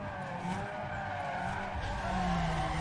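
Continuous tire squeal from a street-racing car in Need for Speed Underground 2, a sustained skid with a high whine layered over a steady engine drone, loud and close throughout.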